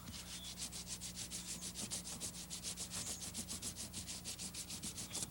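Steady back-and-forth scraping of a sandpaper block wet sanding boat gelcoat, quick regular strokes about four or five per second, close and moderately quiet, with no speech.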